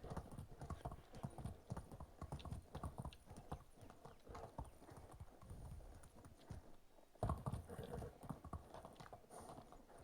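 Horse hooves clip-clop steadily and close in the video game Medieval Dynasty, a busy rhythmic stream of hoofbeats with a brief lull and a louder burst of galloping near the end.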